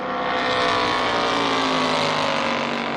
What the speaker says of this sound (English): And now the Porsche is back towards the fast lane as they move